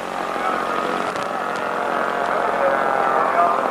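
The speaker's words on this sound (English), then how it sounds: "Look at that way that engine turns over" Five-cylinder radial engine of a Polikarpov aircraft idling after landing, a steady low throbbing drone heard from some distance, with airfield background and no clear speech.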